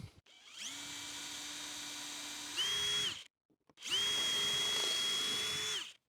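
A power drill drives a screw into pallet wood for a rustic coat rack, whining in two long close bursts with a pause between and the motor pitch shifting near the end of each run.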